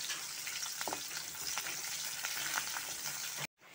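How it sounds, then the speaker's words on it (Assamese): Onions frying in hot oil in a kadai give a steady, close sizzle with faint crackles and a few stirring scrapes, cutting off abruptly near the end with no voices. "এতিয়া আমি ইয়াতে আমাৰ পিঁয়াজখিনি ভাজি লওঁ।"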